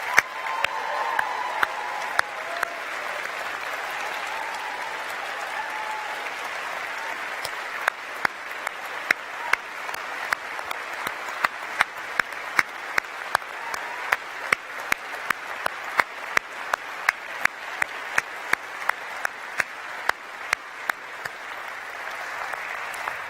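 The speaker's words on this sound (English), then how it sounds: "it would be wonderful, not just to clap, but shout your thanks for all that you have done" Graduation ceremony audience at the University of York giving sustained applause, dense steady clapping with sharp individual claps standing out, no clear cheering, lasting throughout.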